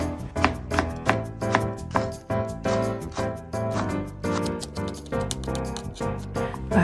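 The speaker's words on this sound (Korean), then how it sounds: "먼저 대파 1개를 어슷썰기 해주세요." Kitchen knife slicing a green onion (daepa) diagonally on a cutting board, a steady run of crisp chops set under continuous background music.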